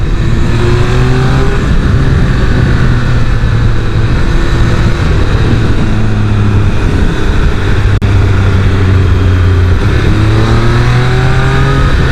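A Triumph Speed Triple 1200 RR motorcycle engine drones loud and close while riding, its pitch rising and falling through gear changes over a continuous wind-buffeted roar, with no talking.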